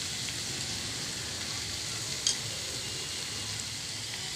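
Cauliflower frying in a pan gives a steady close sizzle, with one brief scrape of stirring partway through and no voices.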